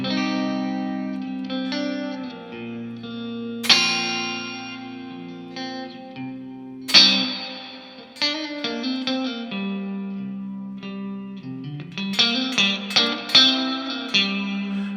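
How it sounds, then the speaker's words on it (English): An electric guitar played through a Walrus Fundamental pedal's spring reverb setting rings out in strummed chords and picked notes, with long, drippy tails washing after each attack, loud and close with no talk. "Now we're going to do the spring reverb. Now this is simulating the old school like spring tanks."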